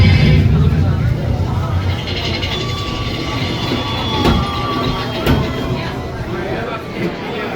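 Big Thunder Mountain Railroad ride train rumbling steadily along its track at a theme park, a continuous low roar with clanks and a sharp knock or two, people talking underneath.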